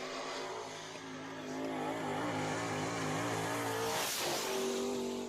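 Race car roaring off on the green flag at Deep South Speedway, a loud, steady engine drone with harmonic tones that rise as it accelerates, and a sharper surge near the end.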